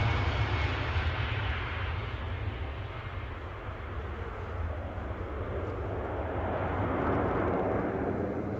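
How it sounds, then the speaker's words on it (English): A departing Airbus A320 at Edinburgh airport in icy, gloomy weather, a sustained distant jet engine roar with a deep low rumble, steady in level and heard without talk. "as you're watching this departing Airbus A320, in the gloom"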